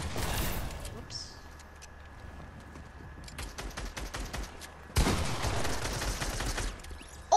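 Assault rifle fire in Fortnite crackles in rapid bursts, with a sustained stretch of automatic shots midway and louder heavy firing toward the end, while players chat in between.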